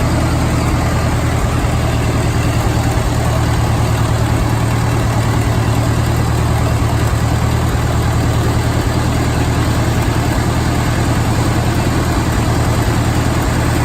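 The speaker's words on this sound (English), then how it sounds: "it's been a long time since I've heard that type of running from the M Diesel" Farmall M Diesel tractor engine running on gasoline, a steady, loud, close idle with a deep low rumble and constant vibration throughout, no voices.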